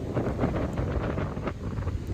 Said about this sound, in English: It's unbelievable the force of the wind.